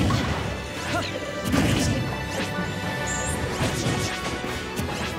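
Smash attacks land in Super Smash Bros 4 as a dense run of loud crashing hits and whacks, one after another, over busy game sound with no talk.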